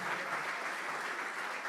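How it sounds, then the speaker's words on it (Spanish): A church congregation applauds during a sermon, a steady, fairly soft and distant patter of many hands clapping with no voices rising above it. "En este momento vos tenés que levantar un aplauso"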